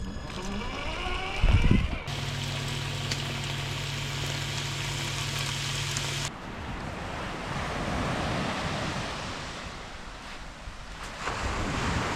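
Sea waves wash onto the Sardinian coast at sunset in a continuous roaring surf, with heavy wind buffeting the microphone. A brief loud knock comes near the start.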